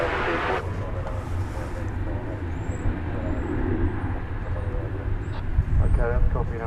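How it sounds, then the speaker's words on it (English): An Emirates heavy jet departing DFW airport rumbles as a broad, steady roar under radio chatter and nearby voices, with the noise building slightly toward the end. "Emirates 4 mile heavyweight departure"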